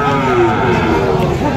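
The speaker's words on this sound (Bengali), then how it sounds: "এদিকেও আছে অনেকগুলো ছোটো ছোটো বাছুর।" Small calves moo loudly and close by at the busy Joymantop cattle market in Singair, Manikganj, with voices faintly mixed in beneath the lowing.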